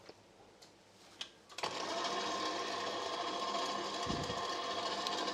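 Stand mixer beating a gingerbread mixture, starting up after a quiet moment and then running in a steady, loud whir that holds to the end, with a brief low knock partway through.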